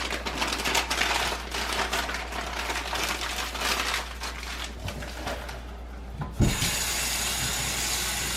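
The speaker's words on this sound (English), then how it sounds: "I'm going to use a little bit of warm water to get it mixed up." Warm water runs from a tap for mixing seedling feed for tomato plants, a steady close splashing stream that briefly stops with a clunk before flowing on, with no talk.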